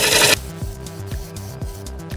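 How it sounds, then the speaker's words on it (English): Asian pear wood being cut away on a wood lathe to form a bowl tenon, a close, steady scraping rasp with repeated soft rhythmic knocks, opening on a brief louder burst. "I'm going to cut some of this away and have my tenon up a little bit higher than what I planned"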